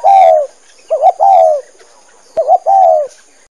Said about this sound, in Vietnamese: Chim bồ câu.